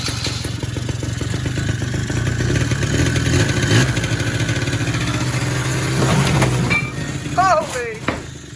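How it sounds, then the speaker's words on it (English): A quad ATV with a recently cleaned carburetor runs away inside a garage, its engine droning loudly while clattering crashes sound as it hits shelves, and someone shouts near the end. "We got a runaway quad. It just took out my shelves."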